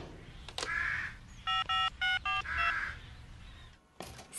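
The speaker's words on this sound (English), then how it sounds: "I've just got to phone Wendy first." Telephone keypad dialing tones in a Bob the Builder cartoon scene, with four distinct beeping tones in a quick row, bracketed by brief cartoon sound effects and a caw-like call.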